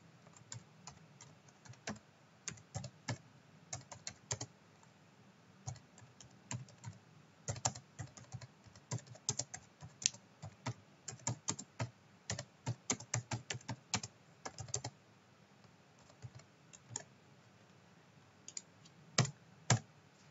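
Quiet computer keyboard typing in irregular bursts of key clicks, with clusters of rapid strokes separated by short pauses and no talking.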